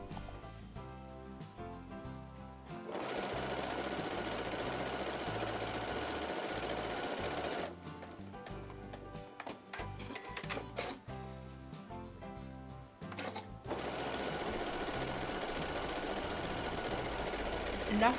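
A Skyline S7 sewing machine stitches together 10 cm patchwork squares, running in fast rattling bursts with short pauses between seams, fairly quiet and close.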